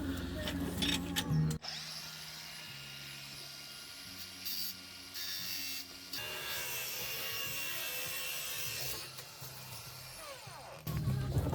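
An angle grinder cuts off rusted bolts during an ST180 to courier van conversion on a driveway, giving loud, close, sustained whining bursts that shift pitch as the motor loads and pauses, with no talk.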